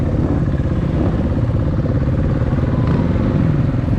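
A KTM EXC enduro motorcycle engine drones steadily and loudly up close while riding a winding mountain road near Nice, with constant wind and mechanical clatter.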